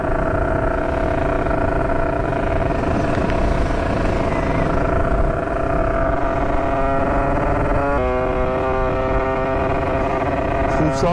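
Continuous engine drone of a motorcycle riding along a road, loud and close with steady tonal whine and wind noise, a shift in pitch near the end as the engine note changes.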